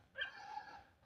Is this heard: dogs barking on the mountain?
yes